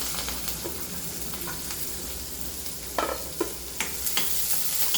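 Crushed garlic, curry leaves and onions frying in a pan, a steady loud sizzle with a few sharp scrapes and clinks of stirring near the end, no talking.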